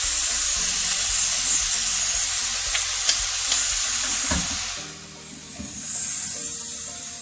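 Soy sauce hisses and sizzles on hibachi chicken, steak and shrimp while they are stirred on a hot surface. A steady loud hiss runs under scattered scraping taps, easing briefly near the end before swelling again.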